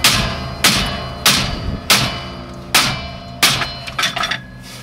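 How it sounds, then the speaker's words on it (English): Hammer taps down a tractor seat bracket on a 7410 being prepared for welding, giving six sharp metallic blows at a steady, unhurried pace, loud and close, with the last few coming in a quicker cluster. "I got my hammer here."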